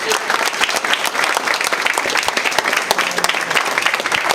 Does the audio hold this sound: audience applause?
yes